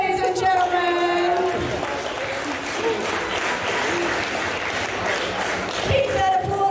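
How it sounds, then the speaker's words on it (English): Loud, sustained audience applause at a circus freak show performance, dense clapping from a crowd that continues without a break while an announcer talks over it. "Keep that applause going for Jake Brazolin"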